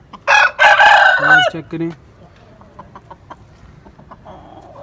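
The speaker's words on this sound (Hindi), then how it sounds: "ये है जी लाखा मुर्गा, सफ़ेद नोक नली में ये मुर्गा है" An aseel rooster on a farm gives a loud close crow followed by a few clucks, and someone speaks briefly just before the birds go quiet.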